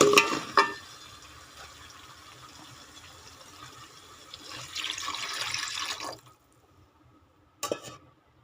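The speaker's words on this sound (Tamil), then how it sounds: "இப்போ பார்த்திங்கன்னா புளி தண்ணி ஆட் பண்ணிக்கலாம்" Tamarind water poured into a pan while cooking meen kuzhambu, a South Indian fish curry, giving a soft liquid splash that swells into a steadier pouring rush, then stops, with a brief clatter afterward.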